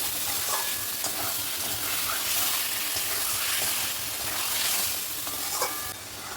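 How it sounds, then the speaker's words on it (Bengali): Potatoes and eggs sauté together in a hot pan, a dense, even sizzle and hiss with faint stirring scrapes running throughout, fairly close and without any talk. "আলু ডিম আমি সব একসাথে ভালো করে কষিয়ে নেব।"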